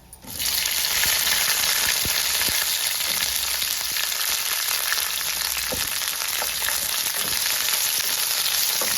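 Chopped okra sizzles steadily in hot oil in a Kerala home kitchen, a dense, even frying hiss that carries on without a break, with a few faint stirring clicks and no voices.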